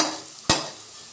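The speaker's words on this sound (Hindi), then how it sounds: "ये देखिए हमारे प्याज अच्छे से फ्राई हो गए हैं" Onions frying in a pan for aloo keema: a soft sizzling hiss, then one sharp stirring clack that fades back into quiet sizzle.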